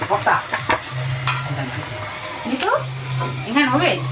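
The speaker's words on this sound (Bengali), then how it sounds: "এইভাবে সবগুলোই ভেজে নেব। আস্তে আস্তে ভাজতে হবে" Puchka (pani puri) shells deep-frying in hot oil with a gentle bubbling sizzle and occasional stirring clinks, close by, while a voice talks over the cooking.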